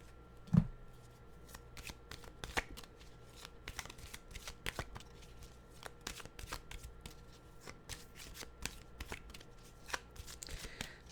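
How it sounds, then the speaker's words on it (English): A deck of cards is shuffled by hand at close range in a quiet room, with a sharp snap at the start and then soft, irregular riffling and tapping sounds. "they feel like they need to be shuffled a little bit, so a shuffling we will do it."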